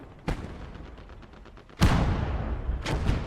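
Two WWII infantry guns and a mortar fire in Gates of Hell, three loud, sharp booms spaced about a second or more apart, each trailing into a rumbling decay, with no talking.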